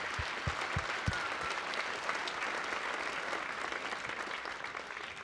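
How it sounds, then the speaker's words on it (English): A school concert audience claps for the custodians in a sustained round of applause that stays steady throughout, with a few louder individual claps near the start. "let's just give all of them a quick round of applause"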